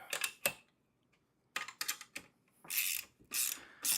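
Rapid ratcheting clicks in short bursts from tightening a nut on a heavy duty four-wheel garden dump cart during assembly, close and fairly loud, with quiet pauses between the bursts.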